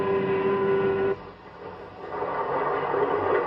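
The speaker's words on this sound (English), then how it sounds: "Now the train's hurrying through farm country." A 1954 passenger train hurries through farm country, a steady rumbling roll of wheels and carriages with a sustained tonal hum at the start that drops away, then continuous loud running noise.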